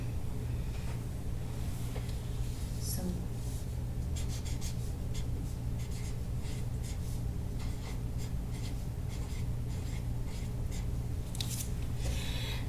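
A marker scratches and squeaks across a board in a classroom science lesson, a run of short strokes and taps over a constant low hum, close and fairly quiet.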